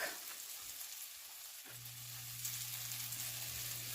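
Spaghetti squash fritters fry in a pan on lowered heat, making a soft, even, continuous sizzle and hiss with a low hum underneath, alone and without talk.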